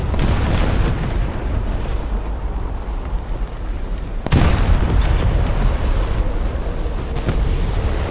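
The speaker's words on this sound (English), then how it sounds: "Those are bombs." Bombs explode in the War Thunder video game, heard as a loud deep rumbling roar that swells throughout, with one sharp blast partway through.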